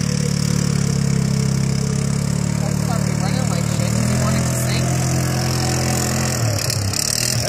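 A jet ski engine runs on water with a steady, mid-pitched idling drone. The sound is close and loud throughout, with slight shifts in pitch and a rough clatter toward the end.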